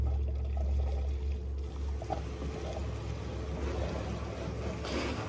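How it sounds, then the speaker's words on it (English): Old gasoline is poured into the tank of a small engine, a steady, close liquid stream over a low rumble that runs throughout, with no speech. "Trying to fill it up, dilute that old gas."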